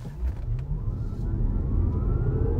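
Geely EX5 car accelerating from a standstill, a low road and motor hum that gradually swells and climbs in pitch, with a faint rising whine over it.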